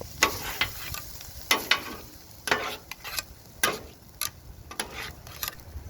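A metal spatula repeatedly scrapes and flips meat in sauce on a flat-top griddle at about 457 degrees, with sharp clacks every second or so over a steady close sizzle.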